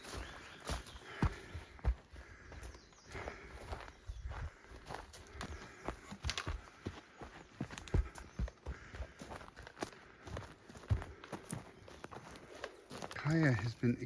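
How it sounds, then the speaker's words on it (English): Steady footfalls crunch along a forest trail on Newfoundland's Fogo Island while a dog walks alongside, close and fairly loud in an even walking rhythm with no wind or other sound around them. "Just our footsteps on the trail."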